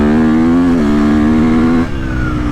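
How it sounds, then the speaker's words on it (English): A 2022.5 KTM 250SXF Factory Edition dirt bike revs hard and close with a strong high-pitched engine tone, then a quick shifter clicks through a gear change and the pitch steps down under acceleration. "You can hear the quick shifter there."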